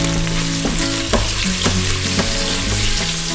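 Shrimp heads sizzle in hot oil in a pan on a multi-cooker set to fry mode, a loud steady crackling hiss with occasional stirring scrapes, no voices over it.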